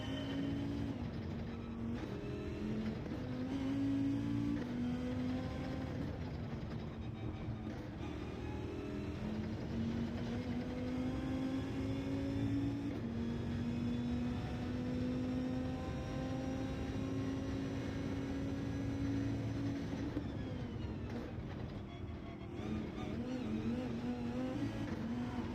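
A Subaru WRX engine in the racing game Gran Turismo 7 drones steadily, its pitch climbing and dipping as the car accelerates and shifts, continuous and fairly even over the whole stretch.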